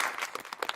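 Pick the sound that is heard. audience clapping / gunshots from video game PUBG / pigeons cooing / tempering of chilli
audience clapping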